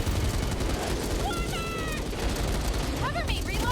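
Gunfire from the video game Back 4 Blood, a dense, steady barrage of shots filling the clip, with short chirping game effects layered on top near the end.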